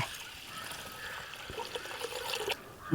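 Water sloshes and trickles faintly at close range as moong dal is washed in a vessel for making payasam, a soft, steady swishing with small splashes.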